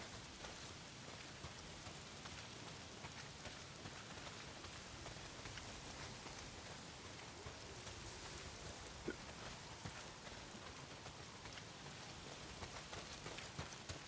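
Steady rain pours down in the video game Days Gone, a dense, even hiss of drops pattering on surfaces that holds constant throughout with no speech.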